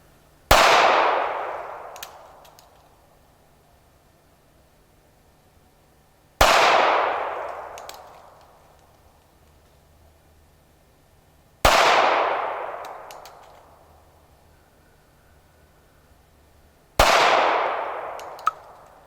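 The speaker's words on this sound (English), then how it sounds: "I'm going to take a few shots of Bodyguard, some white box Winchester 380s" Four sharp, loud shots from a Smith & Wesson Bodyguard .380 pistol firing white box Winchester ammunition at an indoor range, spaced several seconds apart, each with a long ringing decay.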